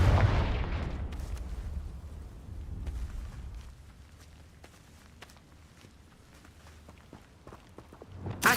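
Confringo fire spells explode in Hogwarts Legacy, opening with a heavy boom that fades, then a run of sharp crackling blasts and footsteps, ending with another loud burst.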